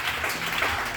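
A church congregation claps together in a brief, dense burst of steady applause, moderately loud and continuous with no clear break.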